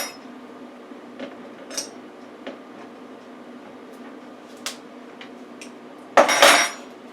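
A bottle of light corn syrup is opened in a kitchen while making pecan pie: a few faint clicks and taps, then a short, sharp crackle of the cap breaking loose near the end.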